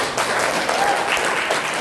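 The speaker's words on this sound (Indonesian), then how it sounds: "Oke, tepuk tangan buat saya" A room full of people at an Isra Mi'raj commemoration in an Indonesian junior high school claps continuously, brisk and even, for a couple of seconds.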